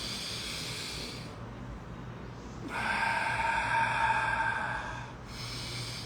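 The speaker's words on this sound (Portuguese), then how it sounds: "A nossa respiração." Slow human breathing, a long audible inhale and exhale of air through the nose and mouth, close and soft over a low steady room hum, with no talking.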